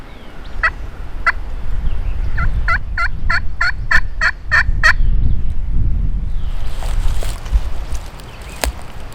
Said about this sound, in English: There's some turkeys out here in a holler.